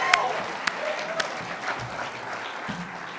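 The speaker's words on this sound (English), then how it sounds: "let's give them one more round of applause" A crowd applauds at an awards event, with scattered claps and steady clapping noise, voices audible underneath.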